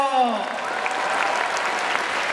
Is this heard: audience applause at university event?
yes